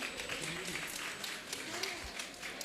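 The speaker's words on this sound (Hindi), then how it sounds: "तो एक बारी हमारे मंत्री जी के लिए जोरदार तालियां हो जाए।" An audience applauding for a minister at an evening cultural program and religious assembly in Bholanath Nagar, Delhi, steady dense clapping throughout the short stretch, with a voice speaking over it.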